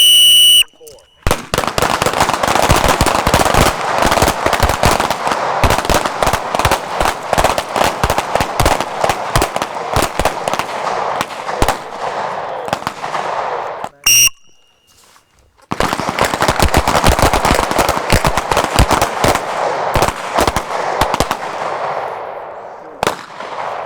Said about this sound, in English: Shoot as fast as you can pull the trigger or as fast as you can see the sights and pull the trigger.